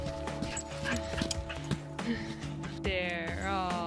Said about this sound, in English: Gentle dog.